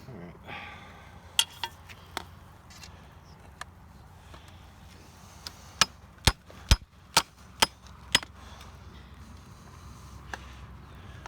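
A hammer knocks at tight net staples during an emergency repair, a scattered few taps followed by a quick run of about six sharp metallic clangs, close and crisp over quiet background with a voice nearby.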